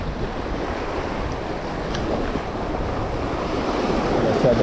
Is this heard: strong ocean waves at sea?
yes